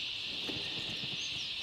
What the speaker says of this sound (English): the whole place is just starting to come alive with the cicadas, believe it or not. You can hear them